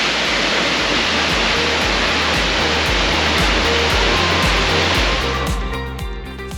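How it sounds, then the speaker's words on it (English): A loud, steady roar of falling water at Salt Creek Falls, Oregon, fills everything with a dense rushing hiss, close and unbroken, easing slightly at the end. "We are at Salt Creek Falls, which is our 7th waterfall in 3 days in Oregon"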